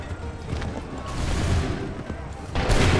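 A volley of musket fire in Assassin's Creed III rolls out as a loud, rumbling wash of shots, while voices shout battlefield commands over it.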